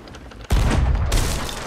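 Gunfire aimed at a tower in Sea of Thieves, a heavy boom bursting out after a quiet moment, then another loud blast and a rumbling, crackling tail.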